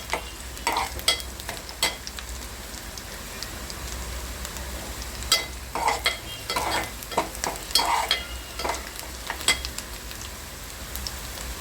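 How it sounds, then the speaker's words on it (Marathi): Onion roasting in a pan for a quick potato chili dish, a steady low sizzle broken by repeated scraping stirs of a spatula, close and moderately loud with no talking. "हा कांदा पूर्ण भाजत आला"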